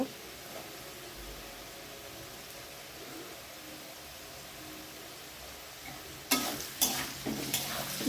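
Chowmein cooks in a pan with a steady, even hiss after salt goes in, and a burst of louder scraping stir strokes comes near the end.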